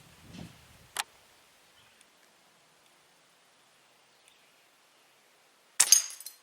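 An Umarex air gun fires at a deer drop knock-down target, giving a few sharp isolated cracks and clicks spaced apart in near silence, the last followed by a brief metallic clatter.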